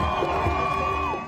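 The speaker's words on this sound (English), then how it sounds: "the massive crowd that packed Hostage Square all night erupts in cheers" A massive crowd packed into Hostage Square in Tel Aviv roars and whoops in a brief, loud burst of cheering that fades at the end.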